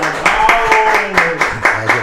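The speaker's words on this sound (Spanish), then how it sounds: "El aplauso." Clapping during an online talk show: sharp, fairly regular hand claps roughly four per second, close and loud, with voices talking underneath.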